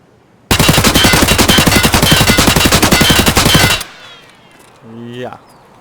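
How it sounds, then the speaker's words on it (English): Sustained full-auto burst from an AKS in Escape from Tarkov, loud rapid shots in a steady stream for about three seconds, then cutting off into a brief quieter tail with a short tonal sound near the end. "The AKS's recoil is absolutely insane."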